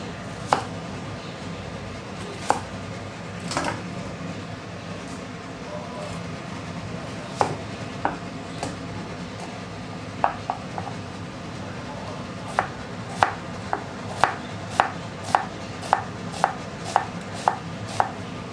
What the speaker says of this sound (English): Oh, I need to cut the onion too.